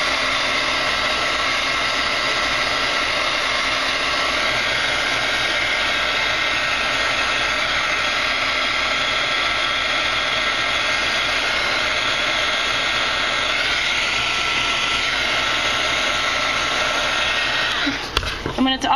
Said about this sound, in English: I do both the front and the back when drying any project with my heat gun